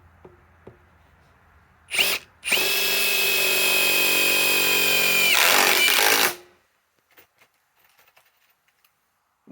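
A Metabo HPT cordless impact wrench, compared with a Triple Hammer Bolt WH18DC and WH18DDX, runs a bolt with a sustained loud hammering whir of about four seconds after two short bursts, then goes quiet.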